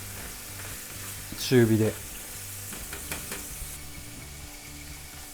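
Oysters frying in olive oil in a pan give a steady, close sizzle throughout, with a short stretch of speech over the top partway through.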